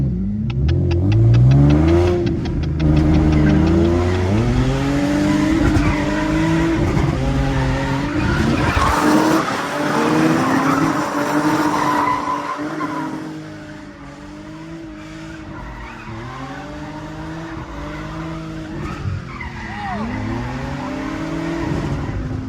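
Several cars drifting in tandem on a rain-soaked track, engines revving and bouncing off the limiter with rising and falling pitch, tires hissing and skidding, loud and continuous over the whole stretch.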